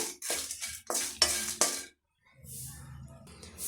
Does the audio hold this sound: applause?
no